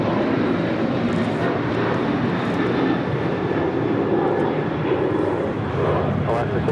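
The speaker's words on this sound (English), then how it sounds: "First outside departure is Philippine Airlines Flight 113, heading back to Manila. It's 777-300ER." Philippine Airlines Boeing 777-300ER jet departing LAX for Manila, its engines a continuous broad loud roar at outdoor plane-spotting distance, with a voice talking over it.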